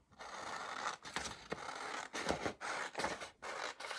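Scissors trimming material at a craft desk, several short close snipping and cutting strokes in irregular bursts separated by brief pauses.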